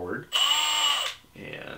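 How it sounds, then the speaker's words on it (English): A power drill spins up to twist a pair of wires for a headphone amplifier build, giving a short steady motor whine of under a second set between bits of talk. "start with a pair of wires and use a power drill"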